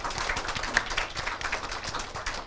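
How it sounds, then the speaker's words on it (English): An audience at a women entrepreneurs summit session applauds, and many hands clap in a steady, fairly dense patter indoors without any voices. "Round of applause for the mentees."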